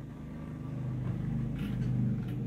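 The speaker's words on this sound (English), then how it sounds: "Sorry for the traffic noises outside." Traffic outside a home workshop, heard as a faint, steady low rumble of passing cars that swells slightly toward the end.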